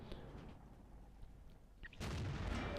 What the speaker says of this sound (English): I think that was the stock gun firing heat